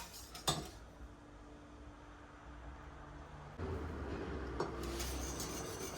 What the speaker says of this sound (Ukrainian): доводити до кипіння, щоб загустіло, помішуючи, не буду відходити від посудини